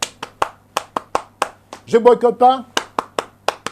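Sharp hand claps ring out in a steady, evenly spaced rhythm, close and loud. A voice speaks briefly partway through, and the claps carry on beneath and after it.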